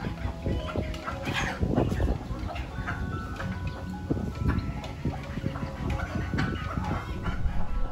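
A busy flock of chickens, roosters and chicks clucks and squawks continuously while feeding, with scattered sharper calls and wing flutters rising over a steady barnyard din.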